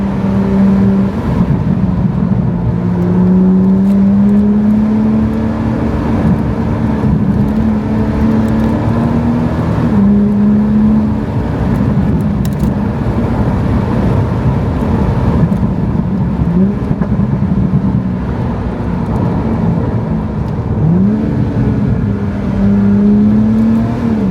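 Morgan sports car engine driving on the road, steady loud drone with rising and falling revs and gear changes throughout, close and continuous with no talk.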